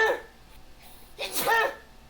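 A short, quiet sneeze from seasonal allergies, preceded by a faint catch of breath, in an otherwise hushed room.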